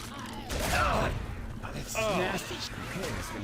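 Gunfire rattles in quick bursts at the Tank in Left 4 Dead 2, with excited voices talking over the shooting throughout.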